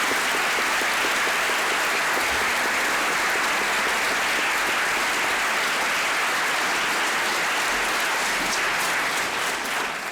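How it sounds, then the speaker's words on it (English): Audience applause in a courtroom-style room at a high school mock trial competition, sustained and even clapping from a sizable crowd that holds steady for about ten seconds with no talking. "I want to give a round of applause."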